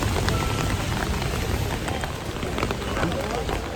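Steady rain falls in the town of Balamban, Cebu, making a dense, close patter on surfaces that continues unbroken throughout.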